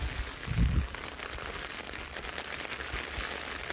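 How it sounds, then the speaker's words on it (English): Summer rain falls steadily on a peaceful day in the Swiss countryside, a dense, even patter of drops with a brief heavier thump near the start and no voices. "It's a beautiful rainy day."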